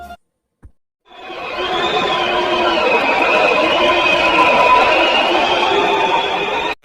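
Strong blizzard wind howls and whistles continuously, a loud, steady gusting roar with shifting whine-like tones for several seconds.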